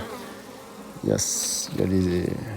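Honeybees buzz around an opened beehive colony, a close, wavering drone with individual bees passing near, while someone talks over part of it.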